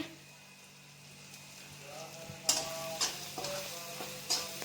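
Capsicum curry with kasuri methi roasts in a pan under a soft, steady sizzle, with a few sharp spatula scrapes and clacks as it is stirred in the second half.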